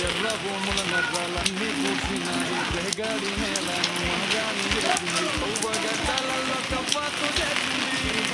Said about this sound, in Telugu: మంచిగానే పడుతుంది వర్షం.